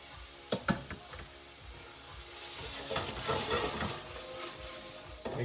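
Pork fried rice with carrots and celery sizzles in a pan, with a few sharp utensil clicks early on and then steady frying hiss and stirring scrapes, moderately quiet and close with no talking.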